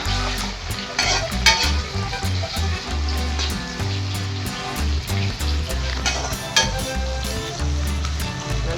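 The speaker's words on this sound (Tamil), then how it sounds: "இப்போ வெங்காயம் போட்டு வதக்கலாம்." Onions sautéing in a pan with ginger-garlic paste for a mint brinji rice dish, a steady close sizzle with scraping stirs throughout and low rhythmic music underneath.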